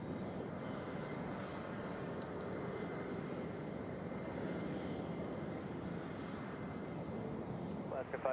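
An airliner arriving at Nashville International Airport gives off a steady, distant engine drone with wind rush at the microphone, continuous and fairly faint, while a voice talks briefly near the end.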